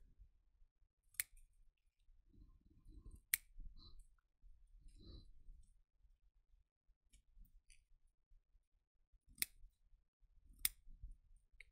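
Scissors snip paper for paper flowers in sparse, sharp clicks and short rustling cuts, close and quiet against near silence.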